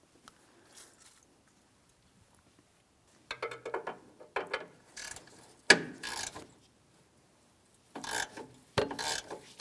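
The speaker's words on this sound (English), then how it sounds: "Let's go ahead and remove that bolt so we can remove the horn." Hand ratchet loosening the 10mm horn mounting bolt on a 2007-2014 GMC Sierra 2500 HD, quiet close-up bursts of rapid clicking and metallic scraping in several separate spurts with pauses between.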